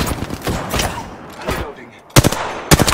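Gunfire in the shooter game Apex Legends: bursts of loud rapid shots, a scattered volley early, then two sharp clustered bursts near the end.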